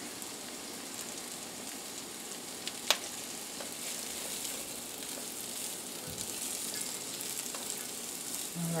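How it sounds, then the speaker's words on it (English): Steady crackling sizzle of meatballs frying in a pan, a dense hiss running throughout with a few sharp pops, no talking. "Alright, it's starting to sizzle here. Starting to hear that sound that I like."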